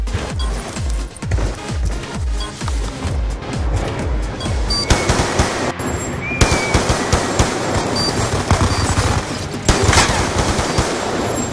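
Rapid automatic gunfire rattles through a Call of Duty Black Ops 2 match, with dense bursts of shots, some sharp impacts and crashes, loud and continuous, with little speech.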